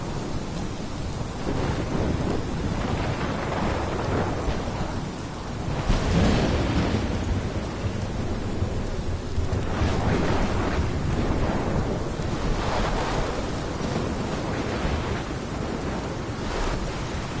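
A heavy storm in Life is Strange with pounding rain, rolling thunder and crashing waves, a dense continuous roar with several louder thunder swells rising and fading, no voices.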